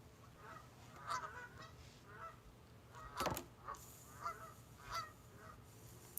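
Geese honk in a loose series of separate calls while running, each honk fairly faint and distant, spaced irregularly over a few seconds with no talk over them.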